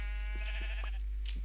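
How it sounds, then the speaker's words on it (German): Sheep in the game Minecraft bleating in a few short, soft calls over a quiet electronic tone, without any talk. "Deshalb ist hier ein Schaf drin."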